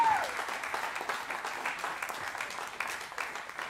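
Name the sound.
audience applause for tenor saxophonist John Sanford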